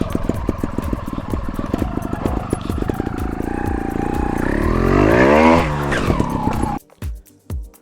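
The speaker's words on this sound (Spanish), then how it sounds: "Voy en segunda marcha, subiendo la rampa, muy metido en la moto, concentrado." A trial motorcycle revs loudly up a ramp in second gear, the engine note rising steadily and close before cutting off abruptly, followed by a couple of brief fading bursts.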